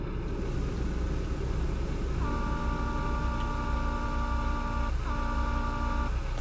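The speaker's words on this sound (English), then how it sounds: "this is a train, and yes, it does make bus noises as you drive it" Drivable train in a modded open-world racing game using a bus engine sound: a steady low mid-range engine drone runs throughout, with a sustained multi-tone hum joining partway and briefly dropping out near the end.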